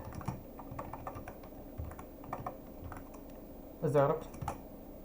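Code typed on a computer keyboard: a steady run of quiet key clicks with a brief louder burst near the end, over low background hum and faint speech.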